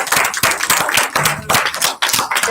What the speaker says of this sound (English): I'm clapping you all